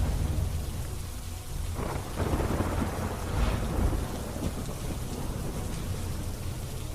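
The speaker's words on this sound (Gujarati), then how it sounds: "ધોરાજીના ભૂખી, ભોલ ગામડા, નાની મારડ, છત્રાસા, ચીચોડ સહિતના ગામડાઓમાં ધોધમાર વરસાદ પડી રહ્યો છે" Heavy monsoon rain pours steadily on the villages around Dhoraji, including Bhukhi, Bhol, Nani Marad, Chhatrasa and Chichod, with dense hiss throughout and low thunder rumbling through the middle; no voices.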